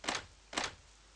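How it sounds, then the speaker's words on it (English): Two quick rattles of a locked door being tried in a Japanese horror video game, each a short, faint burst with a brief pause between them, heard alone with no voices. "Door is locked."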